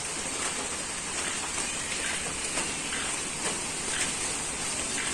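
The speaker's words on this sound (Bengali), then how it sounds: "বৃষ্টি আছে বাইরে" Steady rain falls outside, a constant soft hiss with scattered drops pattering on surfaces, no voices.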